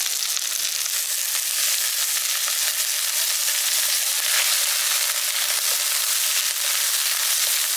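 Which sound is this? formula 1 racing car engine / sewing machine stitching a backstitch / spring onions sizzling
spring onions sizzling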